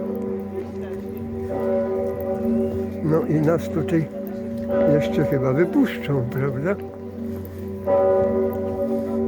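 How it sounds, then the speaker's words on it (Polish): A large church bell, the Sigismund Bell at Wawel in Kraków, rung by hand by bell ringers, tolls steadily with a deep, ringing hum, while people talk nearby over it through much of the time. "tu słychać bardzo jak, jak właśnie bije ten dzwon pociągany rękami kościelnych i tak zwanych dzwonników"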